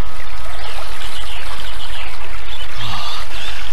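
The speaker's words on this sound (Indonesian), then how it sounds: "Prabu Purbaya sudah berada di dalam air sungai itu, menikmati kesejukan airnya." River water flows steadily and loudly, a dense continuous rushing with faint trickling detail, close by and with no voices.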